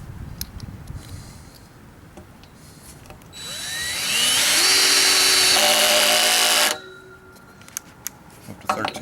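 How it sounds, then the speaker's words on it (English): A DeWalt DCD771 drill driver pre-drills into a wood fence, a loud steady whine rising and holding for about three seconds before stopping abruptly, with quieter handling noise before and after. "I'm going to pre-drill this"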